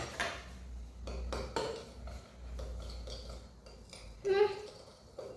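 A spoon clinks and scrapes against a bowl while stirring homemade slime, a series of light irregular knocks and taps, fairly close, with people talking softly around it.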